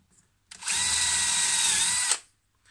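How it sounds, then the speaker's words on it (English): A power drill boring a 6mm hole into a wooden toy shield whirs at a steady high pitch for about a second and a half, then stops abruptly; close and loud, no talking. "we're going to drill a 6mm hole into the body"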